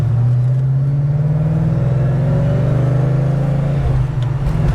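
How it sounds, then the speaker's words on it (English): A tuned supercharged car running on 93 octane accelerates hard in second gear, its engine drone rising steadily with a clear blower whine layered on top, loud and continuous throughout. "Second gear, no issues. You can hear the blower."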